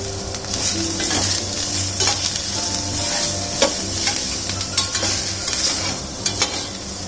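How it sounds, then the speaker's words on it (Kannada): Keema masala with mint and a handful of coriander fries in a pan, a constant close sizzle over repeated scraping and tapping strokes of a spoon stirring the mixture; nobody talks. "ಇದೆಲ್ಲ ಚೆನ್ನಾಗಿ ಫ್ರೈ ಆಗಿ ಒಂದು ಹಿಡಿಯಷ್ಟು ಕೊತ್ತಂಬರಿ ಹಾಕ್ತಾ ಇದ್ದೀನಿ."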